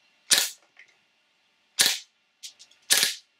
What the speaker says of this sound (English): I will now add some cardbox to see how well it shoots.